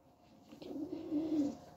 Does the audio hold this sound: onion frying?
no